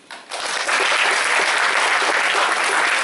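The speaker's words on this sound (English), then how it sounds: "Give a round of applause to all the committee." Audience applause for the committee of an Indonesian student association's cultural night in Rotterdam, starting softly, then swelling into steady, loud, sustained clapping from a large crowd for about three seconds.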